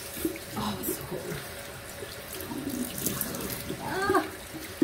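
Lukewarm tap water runs into a sink while a mud face mask is rinsed off, a loud, steady stream with splashing, broken by a few brief voice sounds.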